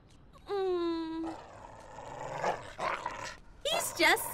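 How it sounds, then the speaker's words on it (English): A small dog in an animated cartoon growls and snarls, a sustained low rumble followed by rougher bursts, mixed with excited voices and other sound effects. "Isn't that Madame Forbes' dog?"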